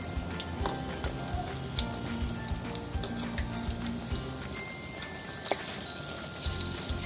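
Bread slices coated in besan batter fry in hot oil for a pakora snack, giving a steady close sizzle and crackle with a few faint clinks, and no talking.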